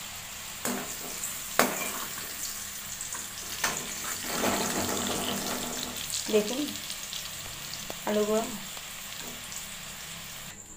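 Potatoes fry in oil over low gas with a quiet, steady sizzle, broken by a few sharp clinks and scrapes of a utensil stirring the pan; a voice speaks briefly over it.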